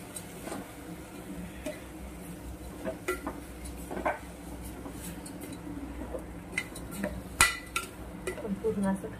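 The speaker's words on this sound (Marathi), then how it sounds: "हलवून घ्यायचं आहे अशा पद्धतीने" Rice and dal khichdi is stirred in a pot, with scattered metallic scrapes and clinks of a spoon against the vessel over a faint sizzle. The sounds are fairly quiet and irregular.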